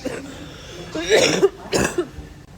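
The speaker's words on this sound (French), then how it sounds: "Ma toux elle s'empire." A person with a worsening cough coughs twice, harsh and close, with throat clearing in between and no speech.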